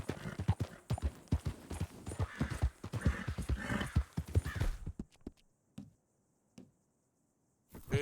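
Horse hooves in Red Dead Redemption 2 clop in a quick, steady rhythm up close, then stop abruptly, leaving near silence with only a few scattered taps.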